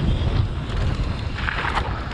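Loud, steady storm wind roars and buffets the microphone during an urban freeride mountain bike ride in gale conditions, unbroken for the whole moment with no voices.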